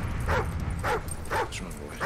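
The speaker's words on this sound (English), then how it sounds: "What is this dog up to?" A dog in the Call of Duty Ghosts video game whimpers in four short, high, rising whines spaced evenly apart over a low rumbling game background.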